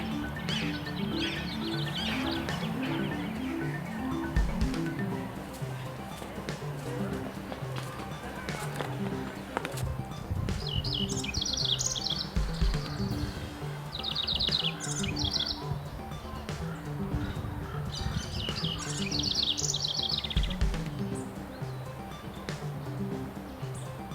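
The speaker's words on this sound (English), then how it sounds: "sometimes bluebirds, mostly finches and sparrows" Finches and sparrows feeding on the ground among rose bushes give bright bursts of chirps and tweets, while someone narrates throughout.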